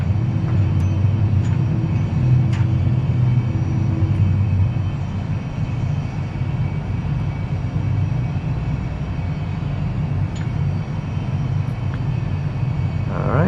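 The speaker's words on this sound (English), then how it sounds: "Landing gear's coming up now." Cabin of an Airbus A320 climbing out after takeoff as the landing gear retracts, a loud steady engine roar and airflow rumble filling the whole stretch with no talk.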